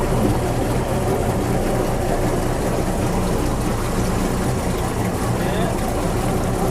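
A mixing machine running in a pav bread factory, a loud, steady mechanical drone and rumble that fills the clip, with voices talking over it.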